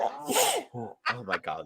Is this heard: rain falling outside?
no